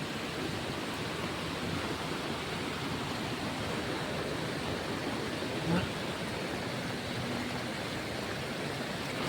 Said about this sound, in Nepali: एकदम ठुलो खोला आएको छ